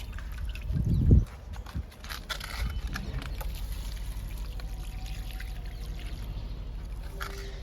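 Liquid fertilizer poured onto jasmine plants, a short close gush of liquid at the start that fades into a soft, faint background trickle and hiss for the rest.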